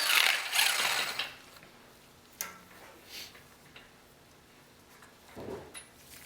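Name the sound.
socket ratchet removing Ford F250 front axle nut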